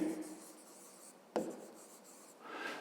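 A pen scratches across paper as an equation is written down for a fifth-grade maths exercise. The soft, continuous rubbing strokes are close and quiet, with one sharp tap partway through.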